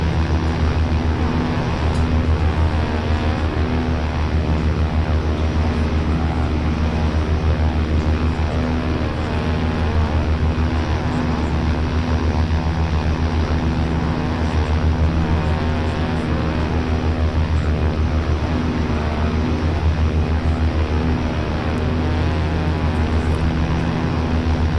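OV-10A Bronco twin-turboprop aircraft in flight in the DCS combat flight simulator, a steady loud cockpit drone of engines and propellers with strong low harmonics, constant and unbroken throughout.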